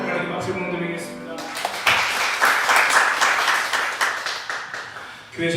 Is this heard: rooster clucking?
no